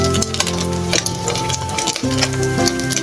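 An egg fries in oil in a pan with a continuous close sizzle, broken by scraping stirs and light utensil clatter.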